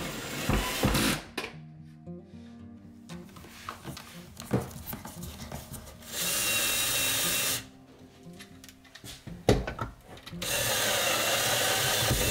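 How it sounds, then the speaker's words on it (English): A power drill bores holes in a wall while mounting solar power equipment, coming in bursts of loud high whine with quieter handling clatter and tool knocks between them. "I'm just going to drill some holes in these spots and just attach two onto the wall now."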